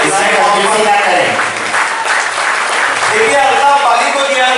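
Loud, continuous applause from an audience at a village panchayat award ceremony in Bhiwandi, with voices and music mixed into the dense clapping throughout.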